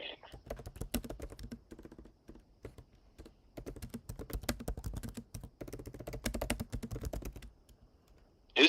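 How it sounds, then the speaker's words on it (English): Rapid clacking keystrokes on a computer keyboard come in irregular bursts with short pauses, close and fairly quiet, without talk. "Who's typing right now? Me."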